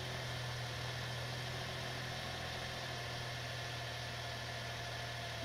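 A vehicle engine idles close by with a steady low rumble and vibration that stays unchanged throughout, with no voices.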